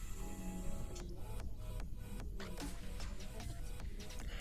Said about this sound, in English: And the problem is her vacuum sounds like shit.